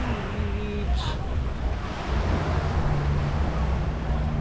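Steady surf and wind noise on a beach in El Nido, Philippines, a continuous low rumble of waves with breezy microphone buffeting throughout.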